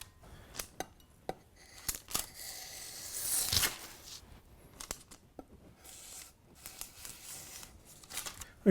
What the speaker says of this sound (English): on this particular patty, I'm going to go ahead and cut the parchment